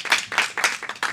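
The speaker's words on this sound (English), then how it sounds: "Round of applause for the man." A few people clapping at a body language and face reading talk, a short uneven burst of distinct claps, close and fairly loud, lasting about a second.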